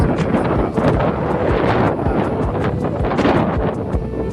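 Strong gusty wind on a hilltop buffets the microphone with a loud, rough roar, rising and falling continuously with no voices.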